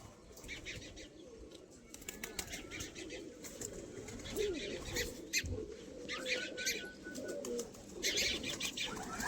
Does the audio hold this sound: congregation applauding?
no